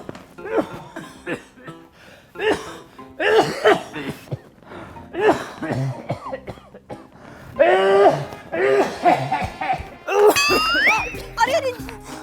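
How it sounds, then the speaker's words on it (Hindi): Someone coughs in short, repeated bursts, mixed with chuckling and talking voices nearby. "आप ऐसे खांसते हुए भाग क्यों रहे?"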